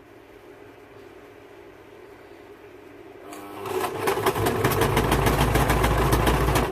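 A sewing machine stitches the casing of a handmade hat, starting after a quiet stretch with a rapid, steady mechanical whir and needle chatter that stays loud and close to the end.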